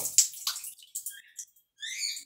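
Water drips and trickles from a shower valve in short, bright splashes and intermittent droplet sounds, close and fairly quiet, separated by brief silences; no speech.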